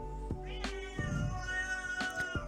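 A pet cat meows several times nearby, a series of short tonal calls with one drawn-out, wavering cry in the middle, alone in a quiet room.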